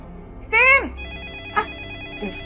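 A landline telephone rings once, a bright warbling electronic ring, followed by brief softer chirps at a moderate distance in an indoor room.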